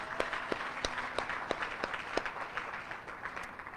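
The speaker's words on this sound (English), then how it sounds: "So round of applause for our transporters." Graduation audience applauding a group of volunteer dog transporters at a guide dog and service dog ceremony, steady dense clapping with a few sharper claps standing out, moderately distant and fading slightly toward the end.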